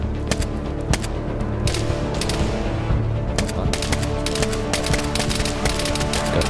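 Rapid gunfire in DayZ during a firefight, sharp repeated cracks in bursts and single shots, loud and close, continuing steadily across the stretch.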